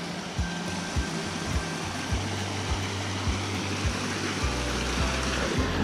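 A moderately strong stream of water runs out from under trees and spills down over rocks beside a temple, giving a steady rushing wash with soft splashing, faint low thumps recurring throughout.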